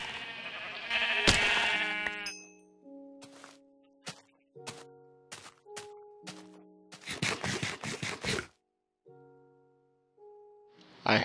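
Minecraft sheep bleat in a wavering burst near the start, followed by a series of sharp blocky thunks and short tonal game sounds, then more bleats with crisp hits, all close and clean.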